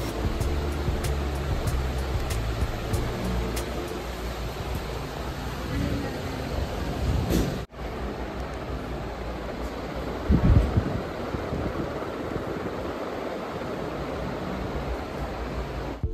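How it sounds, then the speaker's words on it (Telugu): A Gold Medal remote-control BLDC ceiling fan runs at boost speed, giving a steady, even whoosh of airflow throughout with one brief dip partway through. "నేను సౌండ్ కూడా ఆపేస్తాను, ఫ్యాన్ సౌండ్ ఒకటే ఉంచుతాను."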